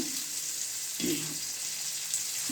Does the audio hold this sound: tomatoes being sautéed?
yes